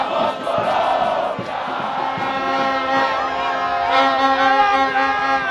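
Colombian football fans crowd in front of the team hotel, a dense continuous roar of voices with chanting and shouting swelling throughout, loud and close.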